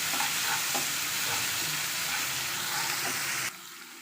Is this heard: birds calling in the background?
no